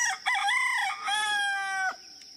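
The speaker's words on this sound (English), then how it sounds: "Mr. Rooster's going to help us too" A rooster crows once on an organic coffee farm, a loud, drawn-out cock-a-doodle-doo rising and falling over about two seconds, fairly close with no talk.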